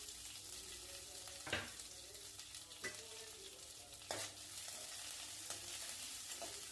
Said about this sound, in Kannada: ಮತ್ತು ಸಣ್ಣಗೆ ಹೆಚ್ಕೊಂಡಿರೋ ಮೆಣಸಿನ್ಕಾಯಿ, ಮತ್ತು ಕರಿಬೇವು ಸ್ವಲ್ಪ ಹೊತ್ತು ಫ್ರೈ ಮಾಡಬೇಕು